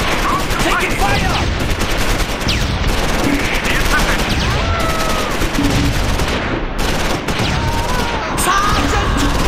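Dense, continuous gunfire and bursts of automatic fire from a World War II–style battle game set at Wiltz, with scattered booms and voices shouting under the steady barrage.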